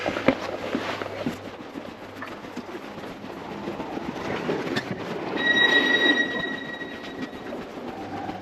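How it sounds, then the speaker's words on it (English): A locomotive-hauled Swiss train with a double-deck portion rolls in with a continuous rumble and rattling wheels, metallic squeals rising toward the end as it slows; no voices. "we just wanted to see the loco come in"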